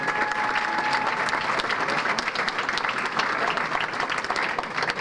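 Sustained, dense applause from a banquet-hall audience at a sports hall of fame enshrinement dinner, loud and steady for the whole stretch with a faint murmur of voices underneath.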